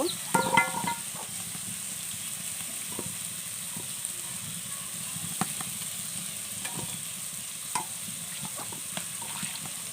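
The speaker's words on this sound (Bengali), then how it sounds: "এখন নেড়ে দেবো ভালোভাবে" Mustard paste and banana are stirred in a pan for a Bengali paturi dish, making a steady low sizzle with soft scraping and a few light clatters of the spoon, a little busier at the start.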